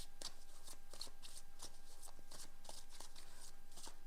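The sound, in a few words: shuffling tarot cards to draw a clarifier card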